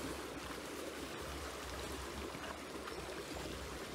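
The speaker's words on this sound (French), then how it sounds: "je vais verser l'eau jusqu'à à peu près avoir la même quantité" Water pouring steadily into a gold pan during riverside gold panning in France, a continuous broadband rush and trickle that stays fairly even throughout with no talking.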